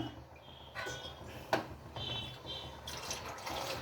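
Thick first-press coconut milk pours into a pot in a soft, quiet trickle, with a small clink partway through.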